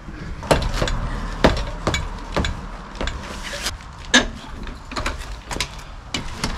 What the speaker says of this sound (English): I guess unscrewing the bolts will be my task.